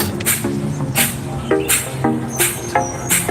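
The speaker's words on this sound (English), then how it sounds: "which is a short, rapid inhale and exhale through the nose" Breath of fire, a yoga breathing exercise of short, rapid inhales and exhales through the nose, sounds as a close, steady run of quick airy puffs, roughly five bursts in quick succession with no talking.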